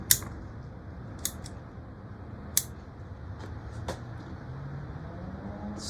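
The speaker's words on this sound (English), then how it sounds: "I'm going to cut it just below that root." Shears snip the roots of a Japanese zelkova as it is repotted into a pond basket: four or five crisp, separate cuts about a second apart over a low, steady background hum, with no talking.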